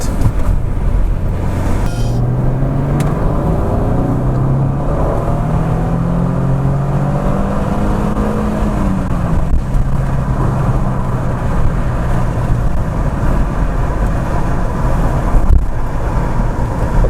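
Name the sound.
Audi A6 2.7 biturbo accelerating from 40 to 100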